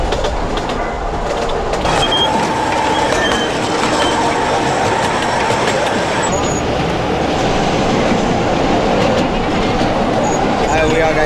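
Narrow-gauge mountain train in the Pyrenees running steadily along its tracks, a loud continuous rumble and clatter of wheels with occasional faint squeals, heard close from onboard.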